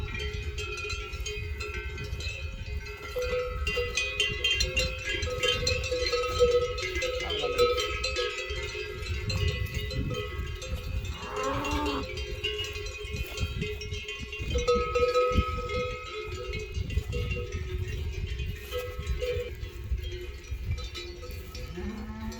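Cowbells clank and tinkle continuously on a herd of cattle at a Spanish livestock farm, a busy metallic jangle with a low moo or two in the background and no voices.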